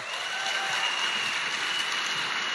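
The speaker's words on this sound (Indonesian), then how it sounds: "Tepuk tangan untuk beliau." Steady applause from an audience welcoming a husband introduced at a network marketing gathering, dense and continuous without voices over it.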